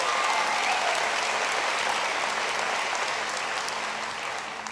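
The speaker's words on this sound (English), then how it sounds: "Give her a great round of applause." A large town hall audience breaks into sustained, dense applause at a health reform event in North Carolina, loud and steady throughout before easing slightly at the end.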